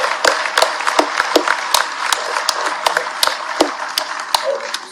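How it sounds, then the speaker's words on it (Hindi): Audience applause at a government event addressed by a chief minister. Separate sharp claps sound in an uneven, scattered rhythm, moderately loud and close, without building into a full ovation. "एक बार ताली बजे तो ऐसी बनना चाहिए।"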